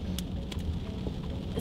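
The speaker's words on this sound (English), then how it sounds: "waiting in the pouring rain for their bus" Pouring rain falling steadily, a dense low rumbling wash with scattered droplet patter, continuous and moderately loud, no voices.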